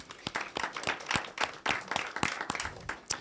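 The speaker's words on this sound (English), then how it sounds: "So a round of applause also for Catalina and Andrea." Audience applause at a game developer event, dense clapping from a crowd that sustains throughout with a few louder individual claps standing out.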